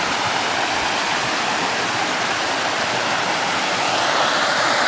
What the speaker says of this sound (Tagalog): Tapos ang ganda guys ng agos ng tubig oh